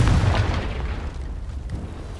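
A Confringo spell explosion in Hogwarts Legacy lands as a heavy, close boom at the start, then a rumbling tail slowly fading with no speech.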